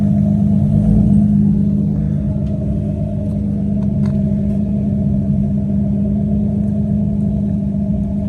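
Car engine idling after an exhaust leak repair with quick steel, a steady low rumble holding close and even throughout, with no voices over it.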